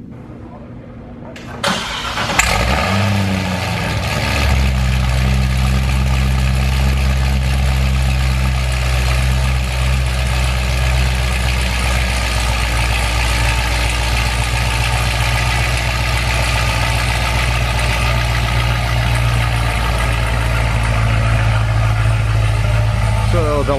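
A Chevrolet Corvette ZR1 starts up in a workshop with a dyno. It catches with a sharp burst, then settles into a loud, steady, close idle that rumbles for about twenty seconds.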